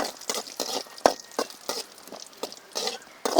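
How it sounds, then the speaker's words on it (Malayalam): Raisins fry in a pan with cashews, with quick intermittent scrapes and clicks of stirring over a light sizzle. "ഞാൻ കുറച്ച് ഉണക്ക മുന്തിരി ഇതിലേക്ക് ഇട്ട് കൊടുക്കുകയാണ്"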